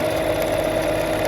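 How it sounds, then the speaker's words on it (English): Fabric squares being sewn together, a green piece joined onto the end, with a brief, steady mechanical whir and hum close by and no voices. "we'll sew that green onto the end"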